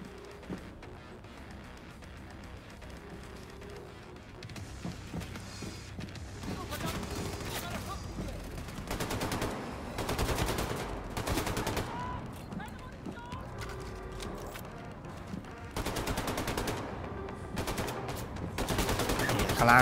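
Rapid bursts of gunfire and explosions in Wolfenstein II: The New Colossus crackle repeatedly over a busy game soundtrack, growing louder toward the end, with a voice talking underneath.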